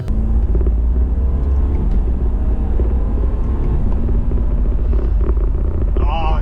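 A BMW F30 fitted with an MST Performance intake drives along, its engine a loud, steady low rumble and drone filling the cabin, with faint higher whines near the end.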